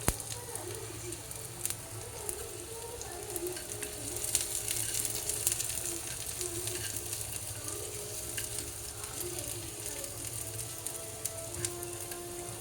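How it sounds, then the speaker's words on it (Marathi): Onions fry in a pan until deep red and crisp, giving a steady sizzle throughout with occasional stirring scrapes and faint birdsong in the background. "त्याला खूप लाल होऊन द्यायचा असतो कांदा एकदम म्हणजे एकदम खरपूस भाजायचा असतो"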